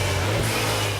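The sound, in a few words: BMW Z4 2-litre turbocharged four-cylinder engine revving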